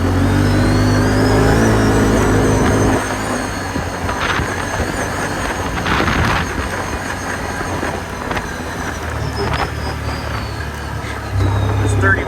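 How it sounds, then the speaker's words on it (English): An ATV engine revs and accelerates over a bumpy field, loud and close, with rumbling vibration and a voice talking over it. "Now we're gonna do a off-road speed test here in the field."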